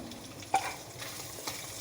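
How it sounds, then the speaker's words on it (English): Meat sizzling in a pan while being stirred for a homemade pizza, a faint steady frying hiss broken by a few soft scraping clicks of the utensil, with no voices. "Let's sizzle this meat up just a little bit more."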